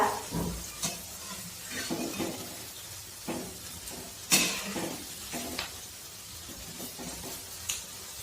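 Cabbage bhaji fritters frying in a pan as they are flipped over, a steady oil sizzle broken by intermittent scraping and clinking of a spatula against the pan, with one sharper clink midway.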